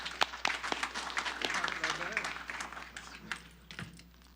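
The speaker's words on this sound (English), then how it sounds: "Let's give him a round of applause" A crowd at a city council meeting claps for a birthday, a brief burst of applause that thins out while voices chatter underneath.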